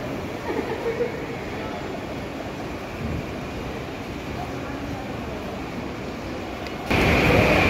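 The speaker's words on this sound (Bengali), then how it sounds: "এই হচ্ছে ব্যারাকপুর স্টেশন" Barrackpore railway station platform ambience: a dense, steady rumble of crowd murmur and distant train noise, growing louder near the end.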